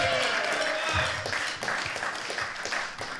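An audience at a birthday celebration event for Mumia Abu Jamal applauds speaker Keith, steady clapping at moderate distance that thins and fades over a few seconds.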